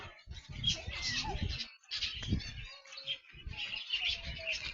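Busy chirps and tweets from small parrots in an aviary fill the air up close, with a person talking over the chattering flock.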